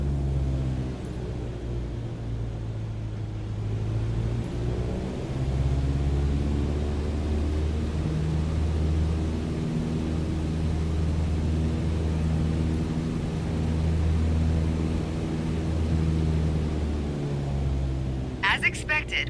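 A propeller airplane's engine drones steadily in Microsoft Flight Simulator as it descends with RPMs reduced, a low continuous hum that shifts slightly in pitch, while a voice talks over it throughout.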